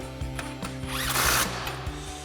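An impact wrench with a 22mm socket tightens a shock extender bolt on a Ford F-250 during a front leveling kit install, giving a close, loud rattling burst of rapid hammering pulses.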